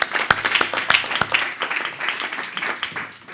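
An audience at a political panel debate applauds as guests take their seats: a few sharp, close claps at the start give way to fading, scattered crowd clapping.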